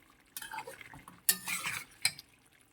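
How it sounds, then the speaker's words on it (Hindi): Chicken tikka in yogurt cooking over high flame, heard as a few short bursts of stirring and scraping in the pan with a light sizzle underneath, close and fairly quiet, no talking. "तेज़ आग पे हमने इसको अच्छे से जो इसका पानी है वो ड्राई करना है इस तरह से।"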